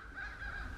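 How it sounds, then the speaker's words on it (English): Crows call from a distance outdoors near a pigeon loft, giving a steady, faint, harsh honking cry that runs under low background rumble. "you can hear the crows back there"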